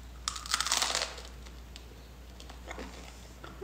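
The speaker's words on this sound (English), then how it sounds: "chewing sounds." Someone eating a sandwich close to the microphone, a burst of crunchy, crinkly chewing at the start followed by softer, sparse mouth sounds, with a low steady hum underneath and no talk.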